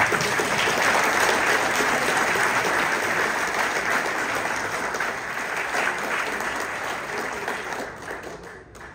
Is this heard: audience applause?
yes